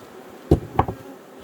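Honeybees in a hive being smoked during an inspection give two short, close buzzing bursts against a low background hum.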